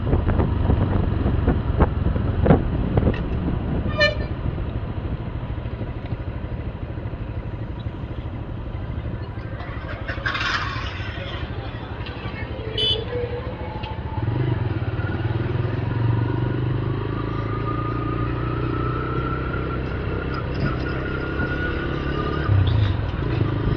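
A motorcycle carries its rider toward Murudeshwar, a steady engine drone with heavy wind buffeting and rattling clatter close to the microphone throughout, with no talk.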